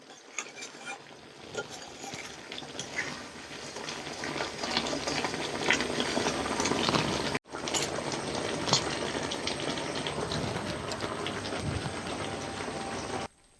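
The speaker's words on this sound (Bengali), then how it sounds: "এই চিনির রসে কিন্তু এই পেঁপের টুকরোগুলোকে সেদ্ধ করতে হবে" Papaya pieces simmer in sugar syrup for a sweet, producing a soft continuous bubbling and crackling that builds in loudness, with a brief cut partway through and no talk.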